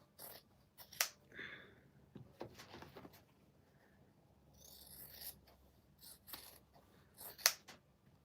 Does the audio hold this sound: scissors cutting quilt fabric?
yes